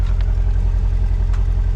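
A C8 Corvette on its stock exhaust hums at a low, steady idle-like drone, quiet and even throughout, with a couple of faint brief clicks and no talking.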